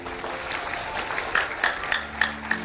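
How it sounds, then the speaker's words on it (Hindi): A small audience at a Jan Suraaj district organisation workshop gives soft, thin clapping, fairly quiet and steady, with a few sharper claps near the end. "ताली जोर से नहीं बजा लगा,"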